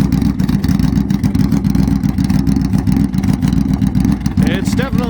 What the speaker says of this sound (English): the bike does not sound like a bike so much as it sounds like a very large car.